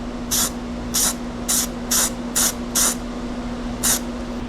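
A coat of paint sprayed onto a Pontiac LeMans in short, sharp hissing bursts, six evenly spaced and a seventh after a brief pause, over a constant low hum.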